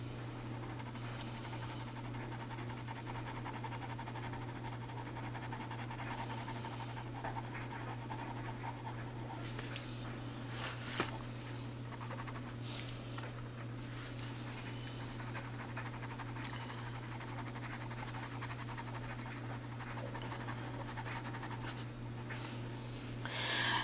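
Crayola crayons scratch and rub across paper while filling in a Christmas fairy drawing, a quiet, steady stroking texture over a constant low background hum, with a few sharper strokes midway.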